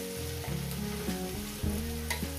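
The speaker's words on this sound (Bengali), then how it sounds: "পেঁয়াজটাকে আমি 2-3 মিনিট ধরে ভেজে নেব" Chopped onions fry in a pan with a soft, steady sizzle. A low background hum and occasional stirring clatter run beneath it, and no one speaks.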